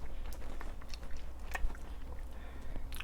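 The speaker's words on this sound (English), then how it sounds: "Sorry about the chewing." Someone chews crispy air-fried roast lamb close to the mic, with wet, crunchy bites and steady mastication over a low room hum.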